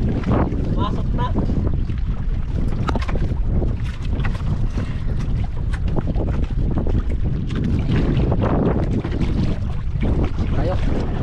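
A small boat moves across open water, a continuous rough rush of hull and engine noise mixed with heavy wind buffeting on the microphone, with voices talking over it.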